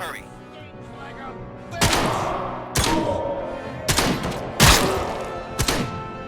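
Heavy gunfire in the video game RoboCop: Rogue City: five loud, booming shots spaced roughly a second apart, each with a sharp crack and rumbling tail over a steady background hum.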